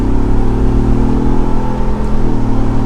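A 2021 Ford Bronco Wildtrak Sasquatch with a 10-speed automatic accelerating out of a sharp turn on the road, a loud, steady engine drone with a rising tone and road rumble, heard alone from inside the cabin.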